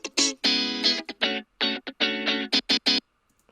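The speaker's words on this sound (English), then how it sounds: "I added a guitar. I just ripped some guitar sounds from Splice." Splice guitar samples in a future funk track play as short, bright, effected stabs and choppy phrases with distortion and chorus, stopping and starting rhythmically before ending in a quick trio of plucks.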